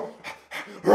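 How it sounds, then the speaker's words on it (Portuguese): Two dogs bark in short, close bursts, three quick barks or yips within a second, the last one loudest. "tem dois cachorros aqui nesse momento que estão latindo"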